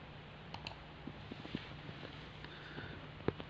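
A computer mouse gives several faint, sharp clicks scattered irregularly over a quiet background, with no talking.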